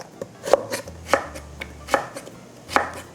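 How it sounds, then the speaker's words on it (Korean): A kitchen knife slices radish into thin strips on a cutting board, with four crisp, evenly spaced chops ringing out close and clear. "원하는 두께의 무를 썰어 주세요"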